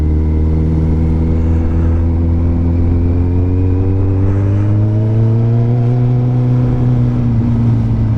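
A Kawasaki ZZR 1400 motorcycle accelerates past queued traffic, its engine note steady and loud up close, pitch rising gradually as it pulls away, with continuous wind rumble and no talk.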